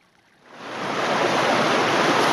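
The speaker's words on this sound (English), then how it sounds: "It's a very nice stream in a deep valley." Stream in a deep, mossy valley, a tributary of Big Brook in Mount Carleton Park, rushes steadily and loudly, swelling in over the first second and then holding a dense, close wash of flowing water with no voices.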